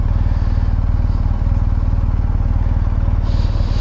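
A 2023 GSA motorcycle engine idles steadily and close, a low, even throbbing rumble filling the whole stretch without pause.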